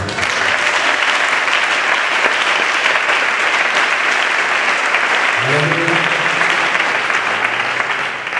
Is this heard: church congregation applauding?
yes